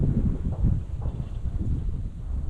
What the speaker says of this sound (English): It is a little windy, so I apologize if there's any wind noise in the microphone.